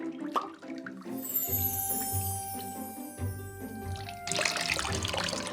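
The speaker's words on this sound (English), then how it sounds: "I'm just using a cup to pour the dye all over the fabric." Dye is poured from a cup over fabric, a close trickle and splash of liquid, with light clinks and a louder gush near the end.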